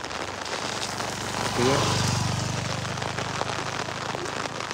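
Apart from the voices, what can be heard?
rain falling in the fields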